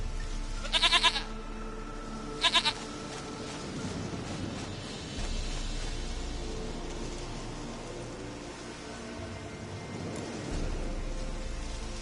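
Two short, sharp goat bleats in The Witcher 3 come close together near the start, followed by a steady wash of rain-like ambient game noise.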